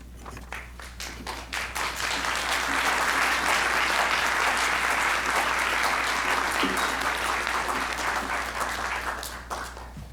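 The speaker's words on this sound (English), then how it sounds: "thank you for applauding Brother Chris" Sustained audience applause in a hall after a talk, swelling quickly into dense, steady clapping that holds for several seconds before tapering off, with no voices over it.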